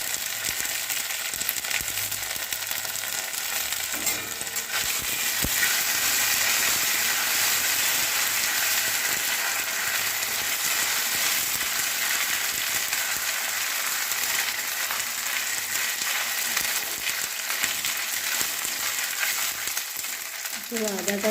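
Ginger paste and broken green chillies frying in a pan for vegetarian semolina upma, a steady close sizzle running the whole time with no talk.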